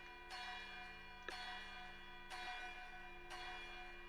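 Alarm bells for the Dungeons & Dragons alarm spell, four evenly spaced resonant bell strikes about a second apart, each ringing out into a long sustained tone.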